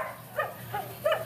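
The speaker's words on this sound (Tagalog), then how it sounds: "Medyo maingay lang yung aso ng kapitbahay namin." Three short, muffled barks from a neighbor's dog in a row, fairly faint and a little distant, over a low background hum.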